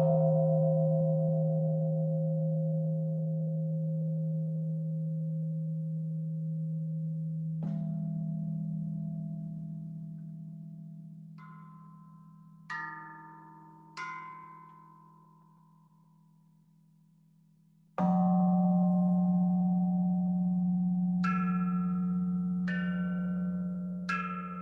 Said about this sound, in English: So we'll strike the bell